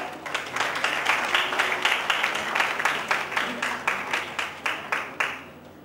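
Audience applause welcoming a guest at a live technical biology session, clapping that pulses in a steady rhythm of swelling bursts, fairly close and sustained before fading at the close.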